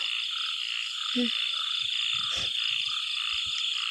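A frog croaks in a wet outdoor spot during a frog-hunting outing, giving one throaty croak followed by a few softer low grunts against a steady wash of insect and night noise.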